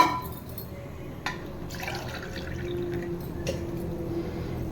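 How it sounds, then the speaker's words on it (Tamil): Water is poured into a vessel to make ragi balls, a soft continuous splashing and trickling at close range, with a brief clink near the start and no talk. "இன்னொரு அரை லிட்டர் ஒரு லிட்டர் தண்ணி ஊற்றிட்டோம்"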